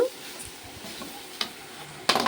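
Chopped cabbage and carrots sizzle softly in a pan while a utensil stirs and scrapes, with a couple of sharp clinks near the end.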